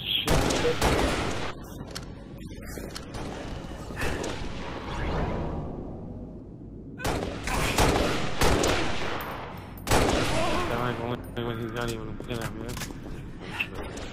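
Repeated bursts of gunfire from the video game SWAT crackle and snap across the clip, interspersed with whooshing effects and pauses, while a player talks over the action.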